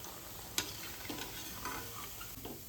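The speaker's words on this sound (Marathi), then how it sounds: "तशाच आपल्याला सगळ्याच वड्या तळून घ्यायच्या" Kothimbir vadi, coriander fritters, fry in hot oil with a soft, continuous sizzle, quiet and close, marked by a single sharp tap early on and a few faint clinks of a utensil, without talk.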